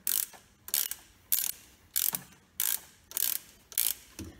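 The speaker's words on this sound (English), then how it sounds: "Just going to loosen everything pretty good before I start completely removing any bolts." A ratchet wrench loosens bolts on the SU carburetors of a Datsun 240Z, giving seven evenly spaced bursts of rapid clicking, close and clear, with short pauses between strokes.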